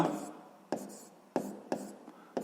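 Pen strokes on paper while writing math notation by hand for a sixth-grade lesson, a soft scratchy drag broken by several short sharp taps, quiet and close, without talk.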